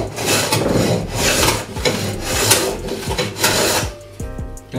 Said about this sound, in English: I'm going to run the plane along here and it will only take off a tiny little bit to start with